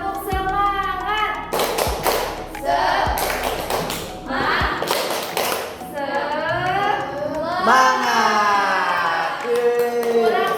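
A class of students standing in a school lesson performs a rhythmic spirit clap: sharp group claps in short bursts alternate with loud chanted voices, close and lively.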